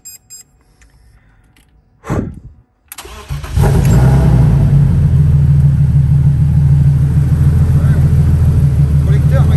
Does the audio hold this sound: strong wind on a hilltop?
no